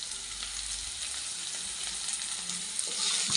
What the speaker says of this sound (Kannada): ನೋಡಿ, ಇದು ಚೆನ್ನಾಗಿ ಫ್ರೈ ಆಗಿದೆ